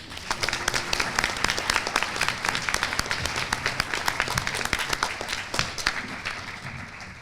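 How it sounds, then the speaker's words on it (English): Sustained applause from the audience for graduates at a spring school hooding ceremony, dense clapping filling the whole stretch at steady volume with no talking. "And let's give a final round of applause to all of our graduates."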